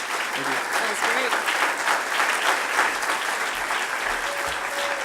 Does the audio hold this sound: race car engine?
no